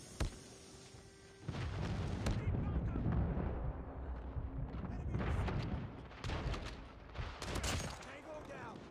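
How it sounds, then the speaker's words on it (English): Rumbling airstrike explosions and bursts of gunfire in a combat video game, a loud sustained barrage with repeated blasts that swells and fades over several seconds. "Friendly airstrike incoming."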